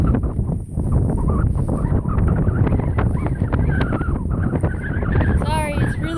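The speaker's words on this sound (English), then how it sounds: "Sorry, it's really windy." Strong wind buffets the microphone outdoors on a mountain, a loud, continuous low roar that fills the whole stretch with gusty rumble.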